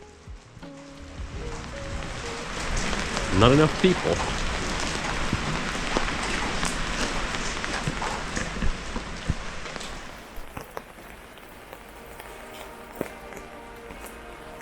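Steady rain falling in a narrow city alley, a dense even patter on hard surfaces that thins out toward the end, with a short spoken remark near the start and scattered drips and clatters.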